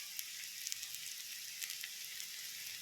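Butter sizzles in a pan for Mumbai-style street-food pav bhaji, a steady, soft, crackling hiss with small pops, heard alone throughout.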